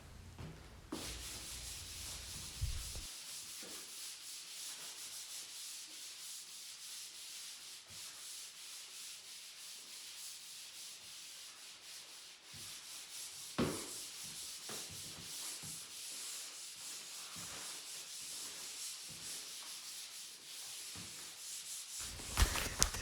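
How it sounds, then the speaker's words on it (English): Hand sanding of drywall joint compound on a skim-coated wall, worked in circular strokes: a soft, steady, close scratchy rubbing that swells and fades with each pass, with a few sharper scuffs and knocks. "I'm just sanding in a circular motion"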